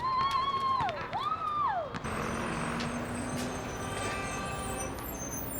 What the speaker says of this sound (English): Yeah, like that horn we just heard now.